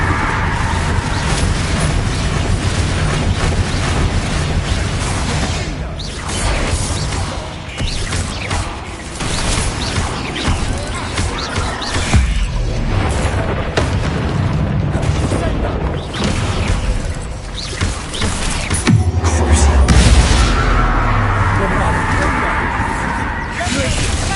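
A Bombarda blasting spell detonating in Hogwarts Legacy on PS5, heavy booming explosion amid a continuous dense roar of combat effects and rumble, with a louder low thump near the end.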